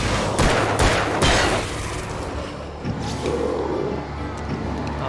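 Flashbang blasts in Alan Wake come as a quick cluster of sharp, loud bangs early on, then fade into a lower rumbling background.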